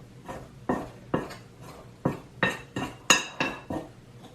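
A utensil scrapes and knocks against a bowl as noodle dough is mixed, about nine rhythmic clinking strokes at a steady pace, close and fairly quiet.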